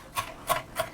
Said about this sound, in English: just continue to run your knife back and forth